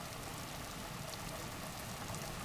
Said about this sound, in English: Oh, we just got heavy rain now.